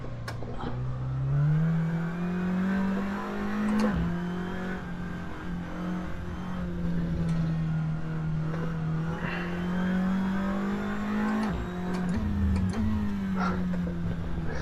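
A Seat Leon TCR touring race car in Assetto Corsa, its engine droning loud and close with steady revs that climb and then drop sharply at gear shifts, running continuously with no talk.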